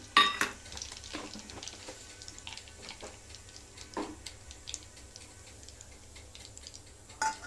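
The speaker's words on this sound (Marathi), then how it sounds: "तर फोडणीसाठी जिरं, मोहरी," Cumin and mustard seeds crackle in hot oil for a cabbage stir-fry tempering, quiet scattered pops and clicks with a few sharper bursts of spattering near the start and end.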